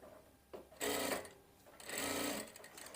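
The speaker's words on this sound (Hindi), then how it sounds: "अब मैं सिलाई थोड़ी सी करके दिखाता हूँ।" A Daisen sewing machine stitches fabric in two short bursts of running needle noise, with a quiet pause between them. The machine runs close and fairly smooth, with a soft whir between the stitching runs.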